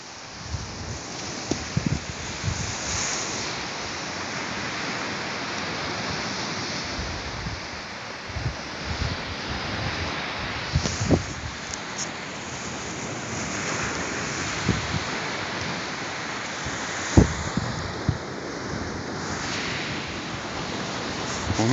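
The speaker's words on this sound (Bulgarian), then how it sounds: "В момента газим във вода." Someone wading through flood water by the sea at Ravda, Bulgaria, with irregular sloshing steps over steady surf and heavy wind buffeting the microphone.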